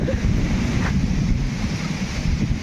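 Stormy wind with heavy unseasonal rain batters the Konkan coast, making a loud, continuous roar of gusts and downpour that buffets the microphone throughout.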